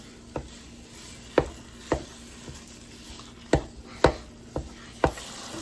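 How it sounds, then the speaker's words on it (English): About a pound of ground beef browns in a pan on a multi-purpose kitchen appliance under a low, steady sizzle, while a utensil strikes and scrapes the pan in sharp, irregular knocks, about ten in all. "We're going to start by browning our ground beef."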